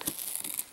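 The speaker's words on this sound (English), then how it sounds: "I have to actually remove the tape, sadly" Tape being peeled off the packaging of a dredg vault box set, a brief close crinkling and tearing rasp lasting under a second.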